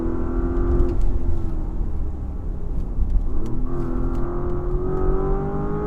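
A Porsche sports car engine roars close by, pulling hard as it accelerates on a hillclimb course, its rising tone dropping with gear shifts and then climbing again, with no voices.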